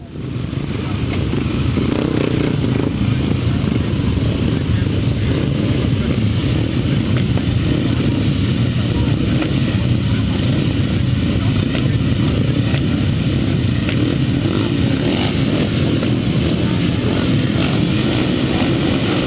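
Solo upright motorcycles roar at a grasstrack meeting, a loud, continuous blend of engines droning and rasping throughout, with a voice faintly audible under the noise.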